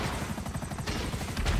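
An explosive minigun fires from a helicopter in a video game, a dense, rapid rattle of shots with booming low impacts, steady and loud for the entire burst.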